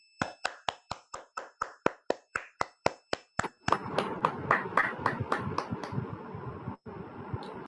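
Rhythmic group clapping after a meditation session starts as steady evenly spaced claps, then swells into denser overlapping applause that fades toward the end.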